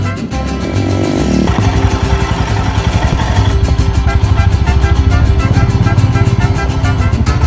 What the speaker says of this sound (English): I hopped back on my bike and started scouting the area.